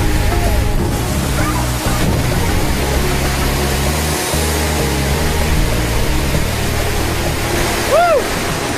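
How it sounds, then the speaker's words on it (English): A forceful waterfall in Cambodia pours down in a loud, continuous roar heard from right beneath it, steady and dense throughout, with a brief whoop near the end. "It is so forceful underneath that waterfall, but you can't appreciate it until you're actually standing right under it."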